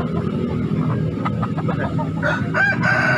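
Chickens at a poultry market in Makassar, a rooster crowing loudly near the end over busy clucking and crowd bustle.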